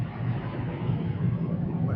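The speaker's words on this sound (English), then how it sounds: "I hear the jet engine again." A jet airplane takes off overhead, heard as a steady, loud, broad rumbling roar that fills the whole stretch without any break.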